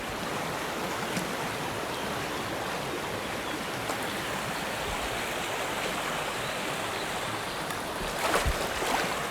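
Someone runs barefoot through a cold river arm, with a continuous, dense rush of splashing and flowing water filling the scene, steady and fairly loud, with a slightly stronger surge near the end.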